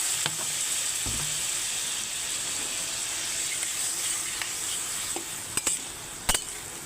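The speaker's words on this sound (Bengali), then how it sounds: "একটু নাড়াচাড়া করে নেবো এখন অল্প জল দিয়ে দেবো জল দিয়ে কষাতে থাকবো" Papaya and potato pieces sizzle and fry steadily in a pan after a little water is added for a vegetarian curry, a continuous hiss with a few sharp clinks of a stirring utensil near the end, no talking.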